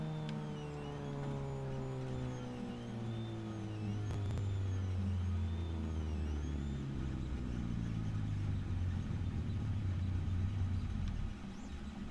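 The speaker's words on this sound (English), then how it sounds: "Let's turn the engine off because it's quite loud." A car engine idles and whirs steadily in the BeamNG.drive driving game, a loud continuous drone with gliding harmonic tones and a rougher rumble toward the end.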